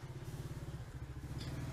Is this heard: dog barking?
no